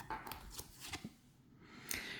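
Tarot cards are shuffled by hand in a few quick riffling bursts, close and soft, with no talking.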